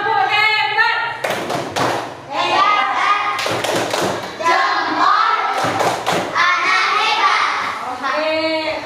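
A classroom of children doing the 'tepuk hebat' clap chant, several loud rhythmic clapping bursts mixed with young voices chanting and a teacher talking.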